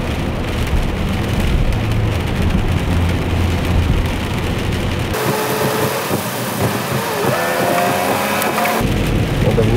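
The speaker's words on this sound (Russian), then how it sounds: "что в январе вот такой дождик, это вообще кошмар" Steady rain patters on a car during a January drive, a dense hiss with low road rumble, shifting partway through as wipers or tires change the wash of water noise.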